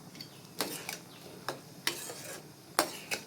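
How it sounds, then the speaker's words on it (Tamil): Spoon stirring chow chow kootu in a cooking pot after ground coconut and salt are added, giving a handful of sharp, scraping clinks spaced irregularly over soft background noise, close and moderately quiet. "ஊற்றிட்டு ஒரு கிளறி கொதிக்கட்டணும்."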